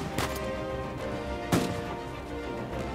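Gunfire in Uncharted 4, with two loud sharp shots about a second and a half apart standing out over a busy, continuous battle din of game effects.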